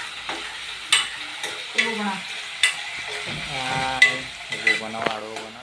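Broccoli fries in a home kitchen pan and is stirred, with irregular spatula scrapes and knocks over a light sizzle while voices talk nearby.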